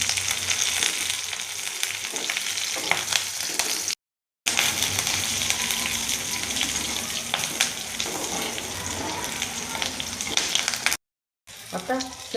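Curry leaves crackle and sizzle in hot oil with onion, green chili and popped mustard seeds, a steady loud frying hiss with occasional stirring scrapes and two short gaps of silence.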